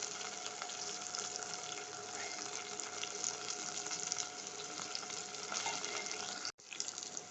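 Onions fry in oil in a continuous bright hiss, steady and close at moderate volume for several seconds, broken by a brief sharp dropout near the end before the sizzle resumes.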